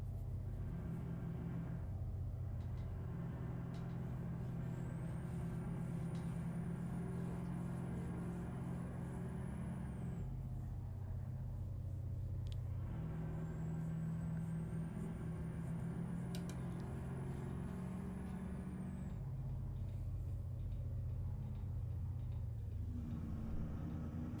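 A GMC Denali 3500 single-cab pickup in American Truck Simulator drives with a low, steady engine rumble. A rising whine climbs and holds twice before dropping away, with no talking.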